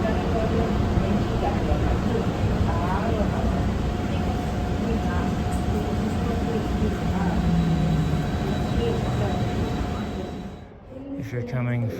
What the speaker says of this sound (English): It's not that long of a train. It's nice.